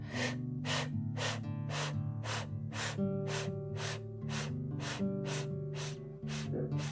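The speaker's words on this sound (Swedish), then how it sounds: "Andas in genom munnen i små klunkar." A series of about a dozen short, sharp inhalations drawn through the mouth in small sips during a yoga breathing exercise, in a steady rhythm, close and clear.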